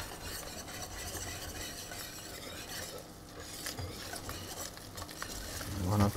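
A flour and dry white wine roux is whisked briskly in a hot pan, a steady clatter of utensil against metal over a soft sizzle, with a louder scrape and knock at the end.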